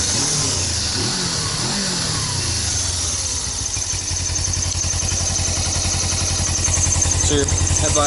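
A stock 2008 Suzuki GS500F motorcycle engine revs up in a few loud throttle blips, then settles into a steady, close idle that runs to the end.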